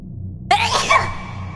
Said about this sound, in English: I really gotta sneeze